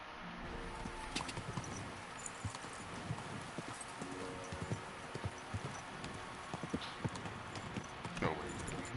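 Horse hooves clip-clopping at a steady walking rhythm in Kingdom Come: Deliverance II, a continuous run of light, close hoofbeats over a faint background bed, with a voice talking over it at times.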